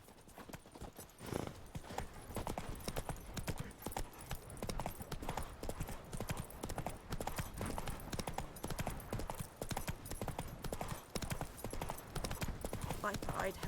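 Hooves of Roach, the horse in the video game Witcher 3, clip-clopping in a fast steady gallop rhythm, clear and continuous across the whole stretch, with faint game voices in the background.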